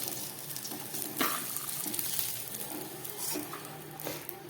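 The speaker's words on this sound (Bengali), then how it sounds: "আলুগুলোকেও খুব ভালো করে আমি ভেজে নিলাম। এবার আলু ভাজাটাকে তুলে ফেলছি।" Potatoes fry in mustard oil in a kadai, a close, steady sizzle with soft scrapes and stirring knocks as the fried pieces are lifted out.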